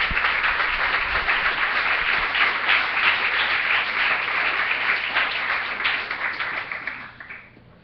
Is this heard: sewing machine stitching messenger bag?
no